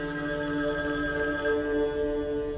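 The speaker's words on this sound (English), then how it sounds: "I get a call from the control room." A telephone bell rings continuously and fairly loud, a steady multi-tone ring with no voices over it.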